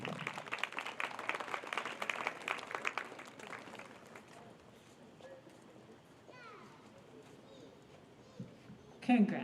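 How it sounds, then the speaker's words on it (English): An audience at a high school senior awards night applauds the graduating seniors, with dense clapping for the first few seconds that thins out and fades, followed by quiet room noise and a brief voice near the end. "So if everyone can go ahead and give every one of our avid seniors a round of applause."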